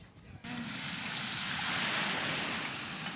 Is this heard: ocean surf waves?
yes